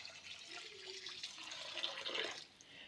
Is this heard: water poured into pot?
yes